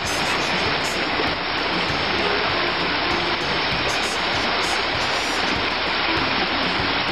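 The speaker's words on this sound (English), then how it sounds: "Now there's a spillway lined with rocks." Water pours steadily over a rock-lined spillway on Yellow Breeches Creek, where a dam once stood. It makes a loud, continuous, close rushing roar with no pauses or voices.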